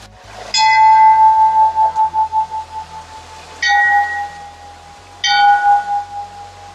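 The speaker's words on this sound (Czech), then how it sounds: "V jedné z umělých jeskyní se ukrývá rám se zvony." Bells hung in a frame inside an artificial cave in tropical gardens on Madeira, struck three times, each a clear ringing tone with a bright metallic attack and a long, pulsing, wavering decay, close and alone.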